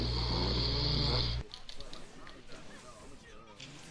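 A loud, rough snoring sound from a sleeping person fills the first second and a half, then cuts off abruptly into quieter background noise with faint voices.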